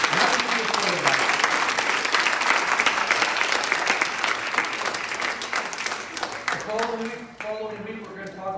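Church congregation claps steadily in a full, sustained wash of applause that fades toward the end, where a voice starts talking over the last scattered claps.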